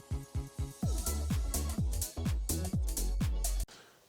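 A mastered edit of a track plays loud, with punchy, rhythmic synth bass notes and bright stabs, then cuts off abruptly near the end.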